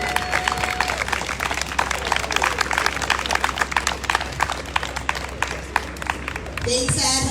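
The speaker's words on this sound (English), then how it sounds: "Round of applause." Audience applause greets a city councilwoman at a Boston campaign launch rally: a steady, dense patter of many hands clapping with a few whoops, sustained for several seconds and then tapering off.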